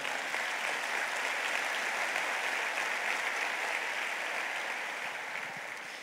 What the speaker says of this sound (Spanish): Yo quiero darle un fuerte aplauso al Señor.